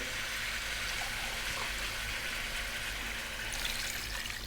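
Water pours steadily into a soup pot with coconut milk, a continuous splashing trickle that runs unbroken throughout at moderate volume.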